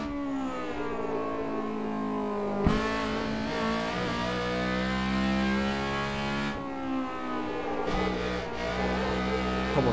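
A Honda Civic EG6 track car revs hard on the Nürburgring, its engine note climbing steadily through the gears with brief dips at gear changes, loud and continuous throughout.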